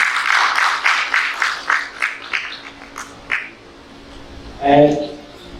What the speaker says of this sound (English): please join me in giving a round of applause to this group for the work they have done